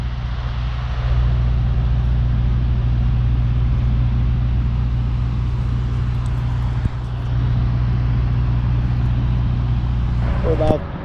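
Steady low road hum and engine drone from inside a moving car on a highway drive toward Old Orchard Beach, Maine, continuous and even, with a brief dip midway and faint clicks near the end.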